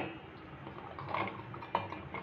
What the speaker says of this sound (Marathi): हे मिक्सरच्या भांड्यामध्ये टाकून घेऊया